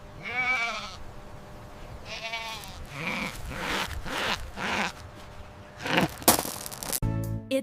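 A goat bleats several times, wavering nasal cries close by, interspersed with rustling and shuffling noises.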